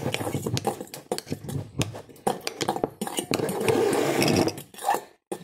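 A fork clatters and scrapes against a bowl while banana pancake batter is stirred, a busy run of rapid metallic clinks and scrapes up close, with voices in the background.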